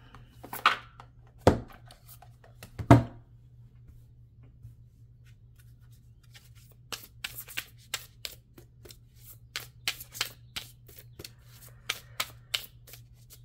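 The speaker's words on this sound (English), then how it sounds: "I want to get more cards out because this is fairly abstract." Tarot cards are handled and shuffled: a few separate sharp card slaps early on, a quiet gap, then a run of rapid light riffling clicks, close and soft over a low steady hum.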